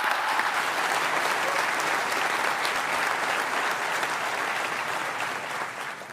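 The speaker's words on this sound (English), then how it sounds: "I think she also deserves another round of applause" Sustained, dense audience applause at the 2026 JFK Profile in Courage Award Ceremony, steady and loud throughout before easing slightly at the end.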